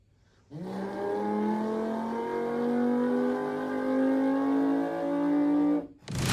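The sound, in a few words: voice imitating a Lamborghini Huracan 5.2 liter V10 engine revving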